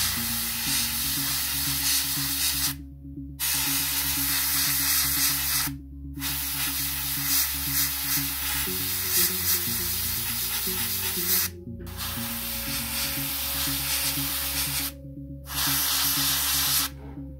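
An airbrush sprays Vallejo Model Air paint onto parts of a Rubicon Models Tiger II heavy tank kit still on the sprue: steady, close hissing bursts of several seconds each, separated by brief pauses, with no talk.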